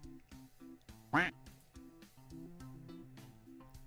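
A single loud duck quack alert rings out briefly, close and distinct, set against a soft repeating musical backing with no talking.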